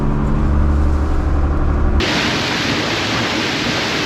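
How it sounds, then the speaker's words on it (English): High winds of 20 to 30 miles an hour batter a boat in St. Catherine Sound during a storm, making a loud, broad rushing roar that starts with a low rumble and then turns to a harsher, steady hiss. "we got blasted by this storm. It's got high winds, probably 20 to 30 miles an hour"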